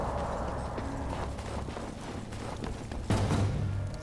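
A horse galloping in the Darksiders video game, with a rapid rhythmic clatter of hooves under game music and effects, moderately quiet, and a louder clanking burst near the end.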